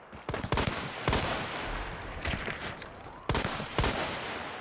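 Gunfire in the video game Hunt: Showdown, several sharp, loud shots spaced irregularly across a few seconds, each with a short echoing tail, with no voices over them.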